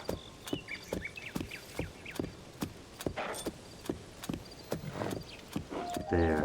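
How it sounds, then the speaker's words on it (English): Horse cantering in Tears of the Kingdom, a steady rapid run of hoof clip-clops on the ground, crisp and close, with a brief whinny-like sound at the end. "Let's just have it go at a canter."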